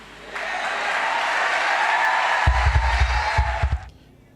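A church congregation claps and cheers in a broad crowd swell, with heavy low thumps like stamping or drumming joining midway before the noise cuts off abruptly.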